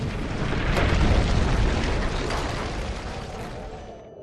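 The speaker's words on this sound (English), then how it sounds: "The cannon caused a massive avalanche of snow to fall on the Huns." A cannon-triggered snow avalanche produces a heavy, continuous roaring rumble that swells loud early, then slowly fades over several seconds, with no voices.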